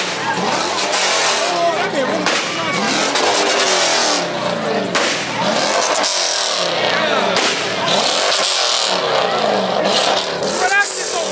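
A debadged Chrysler 300 revs hard at a street takeover, its loud engine roaring nearly nonstop with repeated surges while a crowd talks and shouts over it.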